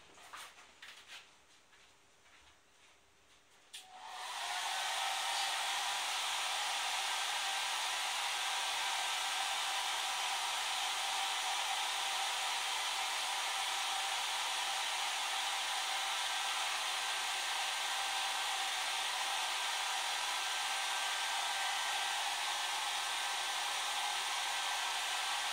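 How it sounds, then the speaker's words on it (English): A steady, loud blowing whoosh of a hair dryer starts after a few seconds of quieter background and runs on continuously. "Give it another shot on the air dryer."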